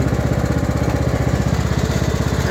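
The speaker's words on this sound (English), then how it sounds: "We're going to drive this around. I'm going to slightly increase the speed." A riding lawn mower engine chugs steadily close up as the machine is driven, its rapid regular firing pulses loud and unbroken.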